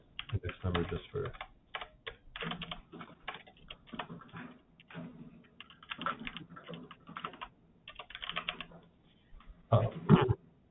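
Rapid keystrokes on a computer keyboard come in irregular bursts with short pauses, close and moderately loud, during a Python coding interview.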